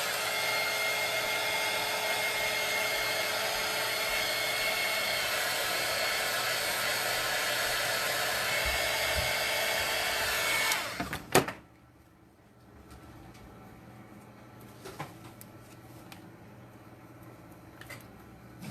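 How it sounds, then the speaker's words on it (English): A hair dryer drying paint on a canvas blows with a loud, steady whir for about eleven seconds, then clicks off, leaving a quiet room with a few faint knocks and handling sounds. "So I'm going to go ahead and hit this with the dryer"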